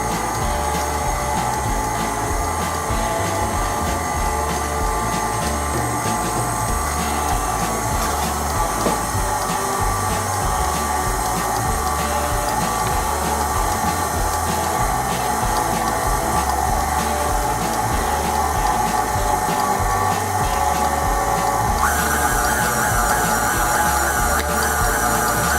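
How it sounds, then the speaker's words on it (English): Electric mixer beating thick carrot cake batter in a bowl, a loud, steady motor whir that holds on without a break, with no talk over it. "Start slow on your mixer so it doesn't splatter."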